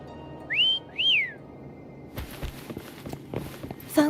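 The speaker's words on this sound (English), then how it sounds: "Try whistling." Two rising-falling whistles call the creature Foam in the Wuthering Waves video game, close and clear, followed by quick footsteps pattering in.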